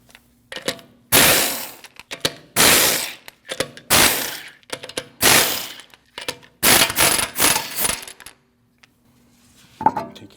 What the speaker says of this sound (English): you have 5 19mm lug nuts you need to remove